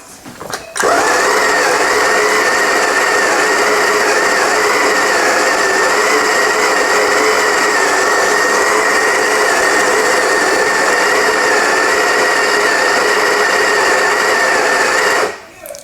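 An espresso coffee grinder set to grind size 6 runs a timed 14.4-second double-shot dose, a loud, steady high-pitched motor whine with a hard start and stop.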